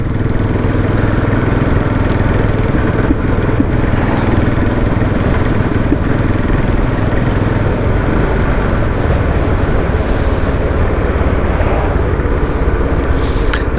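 Royal Enfield Bullet 500 motorcycle engine running steadily while riding, a loud continuous low thump and rumble with wind noise throughout, no voices.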